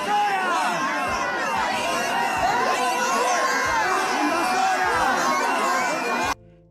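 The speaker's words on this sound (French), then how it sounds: "Ils sont tout seuls, mais ils gueulent hein, comme des fous." A street protest with a crowd of demonstrators shouting and chanting continuously, a dense wall of many voices at moderate distance, with a few low thumps and no clear single speaker, cutting off abruptly at the end.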